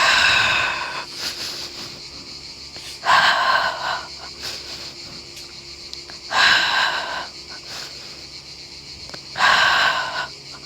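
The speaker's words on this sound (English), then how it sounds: "Inhale through your nose, exhale." Nasal inhales and breathy exhales during a Pilates session, four distinct, evenly spaced breaths that sound loud and close, each with a slightly wheezy airy edge and quiet pauses between them.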